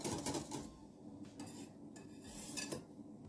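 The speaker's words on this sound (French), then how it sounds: "je continue à mélanger bien" Orange cake batter made with yogurt is mixed in a bowl, a utensil scraping and clinking against the sides in quiet, irregular strokes.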